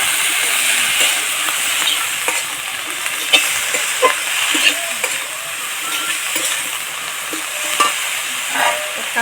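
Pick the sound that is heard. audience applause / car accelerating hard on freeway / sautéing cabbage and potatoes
sautéing cabbage and potatoes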